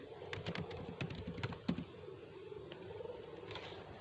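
Computer keyboard keys tap in quick, uneven bursts, close and quiet, with a short pause partway through and a few more light taps near the end.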